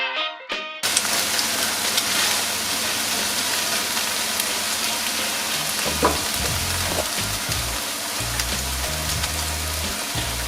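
Chicken sizzles and fries steadily in a hot pan for a honey soy chicken dish, a dense continuous crackle close by with a few louder pops partway through, no talking.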